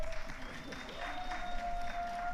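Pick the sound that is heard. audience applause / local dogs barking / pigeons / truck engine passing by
audience applause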